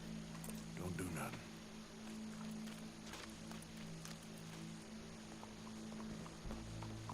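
Horse hooves clip-clop steadily in Red Dead Redemption 2, quiet and rhythmic under a low game ambience and spoken voices.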